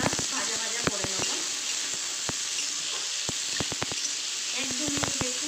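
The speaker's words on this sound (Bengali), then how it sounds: "আলুটা দিয়ে দিয়েছি, একটু হালকা ভাজা ভাজা করে নেব।" New potatoes frying in oil in a pan, a quiet steady sizzle broken by scattered sharp clicks and spatula taps as they are stirred, heard up close.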